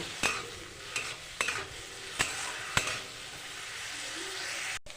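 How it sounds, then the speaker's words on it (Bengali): Carrot and onion frying in a pan with a pinch of salt, a low background sizzle broken by five distinct spatula taps against the pan, fairly quiet and close. "গাজরটা ভেজে নেব, গাজর পেঁয়াজ।"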